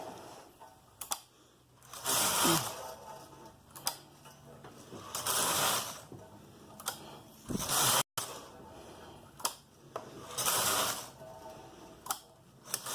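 A Brother 930 knitting machine carriage on an 892 bed slides back and forth while short rowing, making repeated ratcheting, clattering passes of about a second each with brief clicks between them and a little talk.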